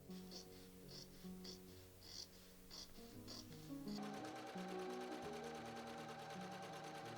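A sewing machine stitches taffeta gown pieces for a Victorian ball gown, starting with short bursts of whirring and then settling into a steady, louder continuous run of fast needle clatter, close up with no talking.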